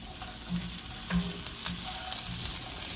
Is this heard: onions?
yes